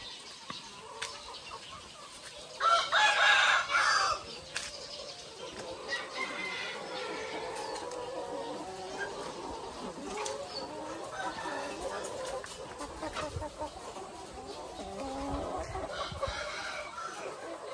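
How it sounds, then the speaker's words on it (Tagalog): A flock of 240 newly arrived Dekalb White layer hens clucking and squawking in a farm pen, with a louder burst of several birds early on and then continuous softer clucking at moderate distance. "ito po yung ating mga bagong manok"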